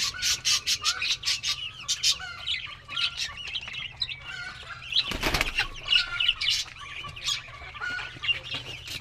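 Pigeons kept alongside chickens at a home coop flap their wings in bursts, with one loud close flutter midway, while hens cluck and birds chirp around them throughout.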